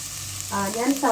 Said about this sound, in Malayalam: ഇതാ നമ്മുടെ ഓയിൽ ചൂടായിട്ടുണ്ട്. അതിലോട്ട് ഇതാ നമ്മുടെ സവാള ഇട്ട് കൊടുക്കുകയാണ്.